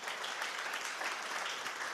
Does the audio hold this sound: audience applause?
yes